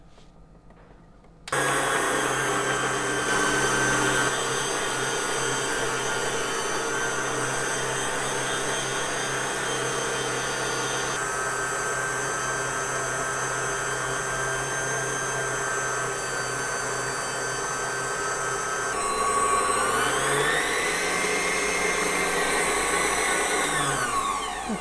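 Electric mixer whipping cake batter, a steady loud whirring drone that runs continuously after a sudden start, with its pitch shifting upward near the end as the speed changes.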